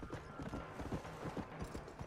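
Hooves clip-clop in a steady galloping rhythm as a horse runs in Red Dead Redemption: Undead Nightmare, close and continuous, with no speech over it.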